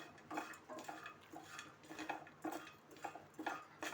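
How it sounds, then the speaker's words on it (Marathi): Grated coconut is stirred and roasted in a pan, with a utensil scraping and tapping against the metal in a steady, fairly quiet rhythm of repeated strokes close by. "खोबरं तांबूस रंगावर छान असं परतून घ्यायचं"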